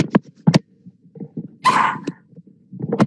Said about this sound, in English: Dog, you're being a jerk.